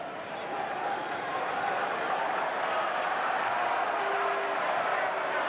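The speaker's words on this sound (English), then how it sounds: "Crowd booing here." Crowd at an indoor lacrosse game between the Pittsburgh Bulls and New York Saints in 1992, a steady, distant roar of voices filling the arena with sustained jeering, fairly faint and unbroken throughout.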